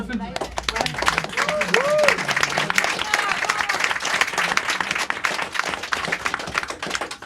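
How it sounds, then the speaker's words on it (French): Audience applause at a live comedy podcast show in Paris, a dense, sustained clapping from a crowd filling the whole stretch, with cheers and a voice mixed in. "On les applaudit."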